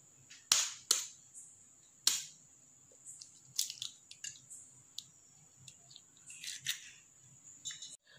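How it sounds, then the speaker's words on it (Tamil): Four eggs cracked one at a time into a bowl while making egg bread toast, giving several sharp, close cracks and taps spaced a second or so apart, followed by lighter clicks and small wet splats, with no talking. "இப்போ எக் ஒன்னொன்னா உடச்சி பவுல்ல ஆட் பண்ணிக்கலாம்"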